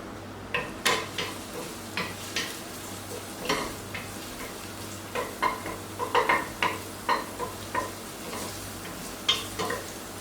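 Garlic frying in olive oil for a spicy Napoletana sauce, a steady sizzle broken by repeated sharp stirring scrapes and taps of a utensil against the pan, close and clear with no talking.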